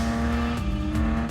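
A supercharged Jaguar F-Type V6S engine drones loudly and steadily up close, with a sustained rasping tone and slight pitch shifts.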